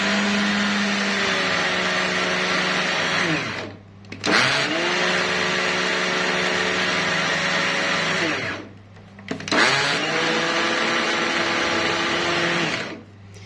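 A blender grinding cooked fava beans runs loudly and steadily in three long bursts, its motor pitch dropping briefly as it stops and restarts between runs.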